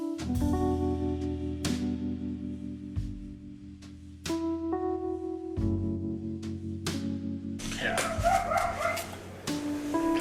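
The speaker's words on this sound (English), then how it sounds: "I bet you hear my dogs outside." Dogs bark a few times outside in the distance, partly buried under steady background music with plucked tones.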